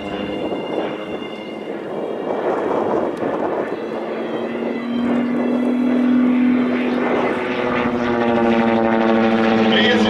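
A diesel-powered Yak-152 propeller trainer aircraft drones loudly overhead at an air show, its engine note rising and steadying as it passes close by.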